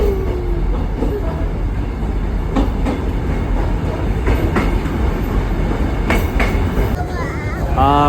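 The Kuranda Scenic Railway train rolls along its tracks near Cairns with a steady loud rumble and repeated rhythmic wheel clacks, heard from inside the carriage, with a faint squeal near the end.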